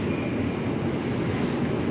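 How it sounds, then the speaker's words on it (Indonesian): A commuter train pulls into the platform at Manggarai station in Jakarta, bound for Tanah Abang and Duri Angke on track 6, with a steady close rumble of rolling wheels and a faint high wheel squeal. "Sudah datang tuh keretanya ke Tanah Abang Duri Angke di jalur 6."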